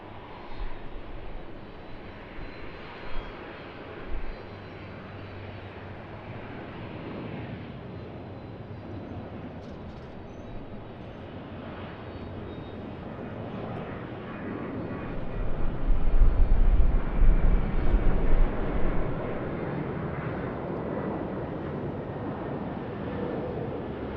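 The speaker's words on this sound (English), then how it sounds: "Expecting some great sound of the G90 engines." A Cathay Pacific Boeing 777-300ER with GE90 engines at Sydney Airport, heard as a steady distant jet roar building to a louder, low-heavy swell midway, mixed with wind noise on the microphone.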